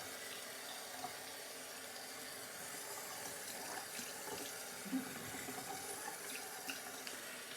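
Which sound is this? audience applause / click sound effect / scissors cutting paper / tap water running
tap water running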